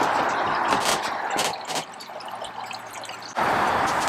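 Water draining from a Ranger Tug R27 outboard boat during winterizing, a continuous close trickling and splashing flow with a few drip-like accents, steady and moderately loud throughout.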